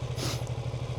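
An A2-category motorcycle engine running in first gear with the clutch lever released, a close, steady low throb with a regular pulsing beat.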